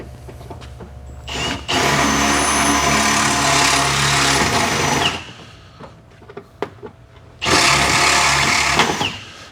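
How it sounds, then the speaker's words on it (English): A power drill drilling out rivets on a tree bar install for a Can-Am Maverick X3 whirs in two loud bursts separated by a pause filled with small clicks and handling noises. "he's drilling out, there's 5 rivets on the bottom"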